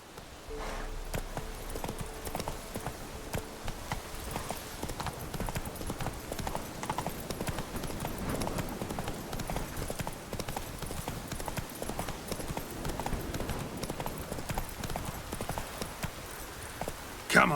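Hooves of a horse in The Witcher 3 video game pound in a steady galloping clip-clop that runs the whole stretch, close and continuous, with a brief snort or whinny and faint game ambience underneath.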